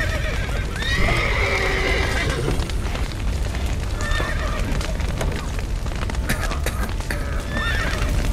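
Horses in the video game The Witcher 3 neigh loudly near the start, with brisk clip-clopping hooves running throughout. Scattered whinnies and thuds sound over a dense, noisy game background.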